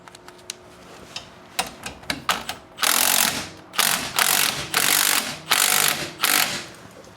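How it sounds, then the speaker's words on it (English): Ratcheting hand tool working to extract a Saab 900 suspension spring, several loud rhythmic bursts of clicking ratchet strokes after lighter scattered clicks, close and clear with no talk. "I'm gonna try and actually extract this spring quick using my trusty tool."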